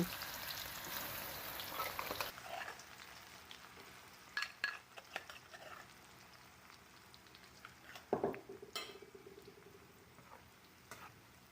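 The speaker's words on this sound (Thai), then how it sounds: "นำกระเทียมลงไปเจียวให้กรอบเหลือง" Garlic frying in hot oil over medium heat until crisp and golden, a quiet continuous sizzle with occasional stirring clinks and scrapes, fairly faint and steady after a brief louder start.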